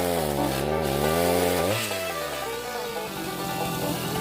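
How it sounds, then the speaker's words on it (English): Chainsaw cutting into a piece of live oak at a sawmill, a loud close-up motor drone that bogs down in pitch as the chain bites the wood, then shifts to a rougher cutting whine, with no voices. "I'm going to use a chainsaw and cut a chunk off of this piece of live oak."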